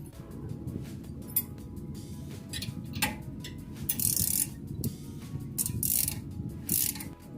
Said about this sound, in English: I'm going to use a wrench on the top and the torque wrench on the bottom.